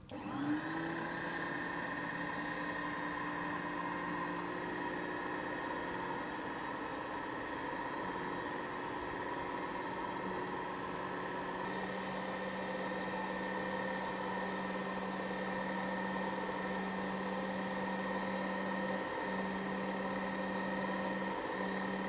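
A watch decoration machine in a watchmaking workshop runs steadily, giving a continuous close whirring hum with stable tones that shift slightly partway through, with no speech over it.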